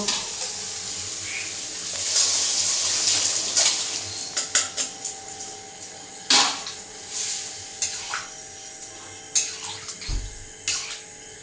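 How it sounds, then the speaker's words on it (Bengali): Boiled peas tipped into a pan of hot oil and spices while cooking ghugni for a Bengali paratha dinner: a steady sizzle with sharp spattering bursts and clinks, no talk. "এবারে আমি সেদ্ধ করে রাখা যে মটরটা আমি যে এখানে সেদ্ধ করে রেখেছি, এবারে আমি এটা এতে দিয়ে দেব।"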